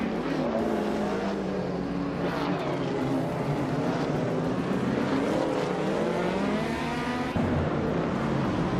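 Several race car engines in a driving game, among them a 1978 Greenwood Corvette GTX, droning and rising and falling in pitch together, a dense steady roar with no speech.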